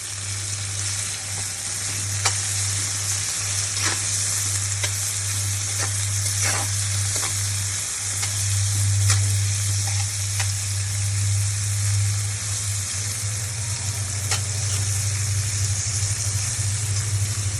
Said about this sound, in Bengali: এখন দেব চিংড়ি মাছ।